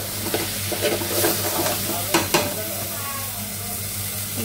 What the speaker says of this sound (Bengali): একটু চাল আর সবজি একসঙ্গে ভেজে নিচ্ছি